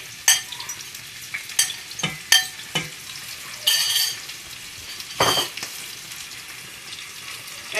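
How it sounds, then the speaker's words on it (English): Sliced and chopped onions sizzle steadily in hot oil while a utensil scrapes and clanks against the pan in repeated stirring strokes, close and fairly loud. "I would pour my onions, my sliced and chopped onions in it"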